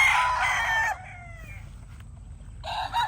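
Young local banded roosters, or stags, crow loudly and close by at the start, then cluck and call more faintly over a low rumble, and a second crow rises at the end.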